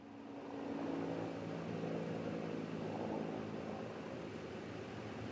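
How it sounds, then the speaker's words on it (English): A low mechanical drone swells and holds, rotor noise from helicopters passing overhead before the State of the Union address, distant and steady with no voices. "And of course, there's helicopters."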